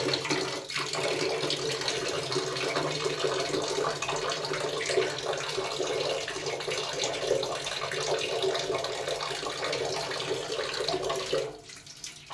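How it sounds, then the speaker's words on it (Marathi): Hot water pours from the tap of an instant water heater, a steady close-up splashing and hiss of running water that continues evenly, then drops off sharply near the end, with no one speaking. "आता गरम पाणी यायला सुरुवात झालेली आहे"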